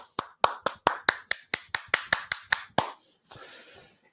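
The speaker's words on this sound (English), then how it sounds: "Played a round of applause." Hand claps sound in a rapid, even series of about a dozen sharp strikes, ending with a softer, noisier patter as the applause effect fades.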